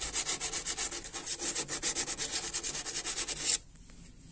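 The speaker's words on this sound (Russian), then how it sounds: "После того, как обработали клеммы наждачной бумагой, еще раз хорошо все вытираем" Fine sandpaper rubbing back and forth inside a car battery terminal clamp, a steady run of close, quick scraping strokes that stops abruptly near the end, with no talking.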